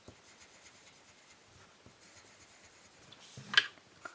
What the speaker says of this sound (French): Je vais tout colorier avant.